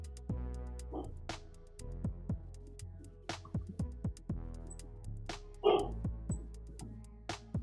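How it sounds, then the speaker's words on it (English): A dog barks repeatedly indoors, a series of sharp yips and barks at irregular intervals, fairly close, with a louder whining bark near the end and no talk over it. "Why is she barking?"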